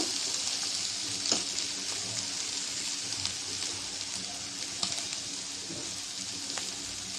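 Bitter gourd sizzles steadily as it fries in a pan, with a constant hiss and occasional soft clicks and pops from the pan.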